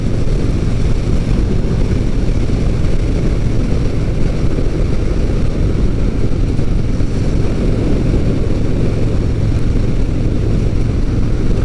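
A Victory Gunner motorcycle cruising at about 75 miles an hour, its engine a loud, steady, unbroken drone mixed with constant wind rush the whole way through.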